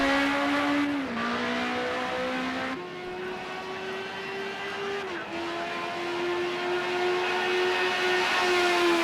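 A Ford Group A race car in the Project Cars 2 game at Fuji drones at high revs, its engine tone dropping and climbing through gear shifts on the straight, loud and continuous.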